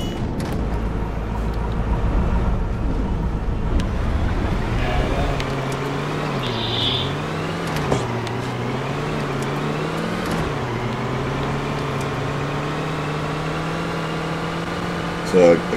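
A vehicle being driven in the video game Defiance, giving a steady engine drone with slowly wavering pitch as it climbs, heard under a voice talking throughout.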